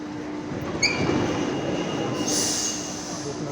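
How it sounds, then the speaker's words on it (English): An underground train arrives at a station in Rome, rumbling in with a sustained roar and high, ringing wheel squeals that rise near the end. "The train is coming."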